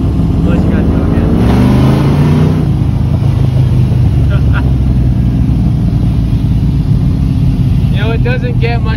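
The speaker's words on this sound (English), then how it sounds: "the sound of a V8 and the low torque it makes" A Chevy C10 V8 revs hard, its loud low engine roar climbing in pitch then settling into a steady rumble, close by and continuous.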